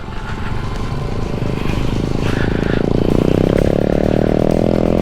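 A motorcycle climbs an uphill trail at full throttle, its engine a loud, close, rising roar that grows heavier and steadier as it accelerates, with no talking.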